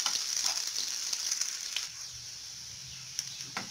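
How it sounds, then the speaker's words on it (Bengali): Ingredients frying in a pan for Bengali pui shak curry, a steady bright sizzle that eases to a quieter crackle halfway through, with a few sharp clicks of a utensil. "এটাকে ভালো করে ব্রাউন করে ভেজে নেব।"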